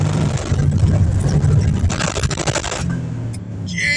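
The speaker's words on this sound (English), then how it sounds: "let's try and do a burnout and see what happens" 2006 Ford Mustang with BMR lower control arms attempts a burnout, a close engine roar with tire noise and rough, pulsing rumble that eases off toward the end.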